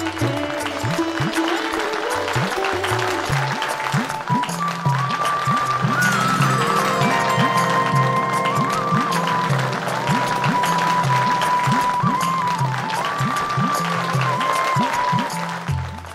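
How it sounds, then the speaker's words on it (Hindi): Sustained applause from a crowd beneath loud music with a melodic line and deep beats, continuing throughout at steady volume. "आप लोग थोड़ा जोरदार तालियां बजावें।"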